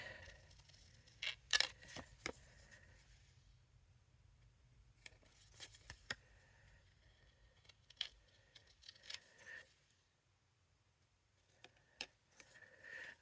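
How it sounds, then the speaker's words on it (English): Scissors trim card paper for a layered card in a quiet room, giving sparse, crisp snips in small clusters separated by near-silent pauses, close and fairly faint. "I'm just kind of trimming up some spots where my cut wasn't great."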